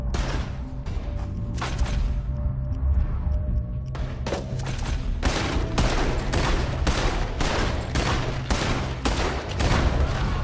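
Gunfire in the Red Dead Redemption 2 video game, a dense fusillade of loud, close shots in rapid bursts with heavy thuds, sustained throughout the clip.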